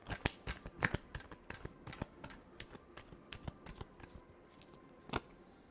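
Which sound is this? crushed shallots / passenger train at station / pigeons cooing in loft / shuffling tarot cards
shuffling tarot cards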